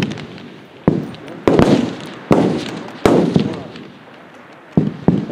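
F-Class rifle shots fired at a 1000-yard match, several sharp loud cracks spaced irregularly, each with a long rolling outdoor decay, separated by quiet range ambience.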